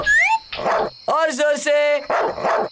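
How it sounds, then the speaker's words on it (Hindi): A dog barks in short loud bursts with whiny yips and whimpers in between, and a voice speaks briefly at the start. "ये टॉमी की भौंकने की आवाज है ना?"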